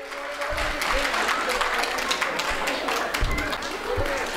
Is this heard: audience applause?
yes